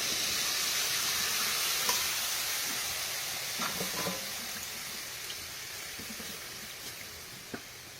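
Thin second-press coconut milk poured over fried pork fat in a pan for laing (taro leaves in coconut milk), giving a steady close hiss and sizzle with faint stirring clicks throughout.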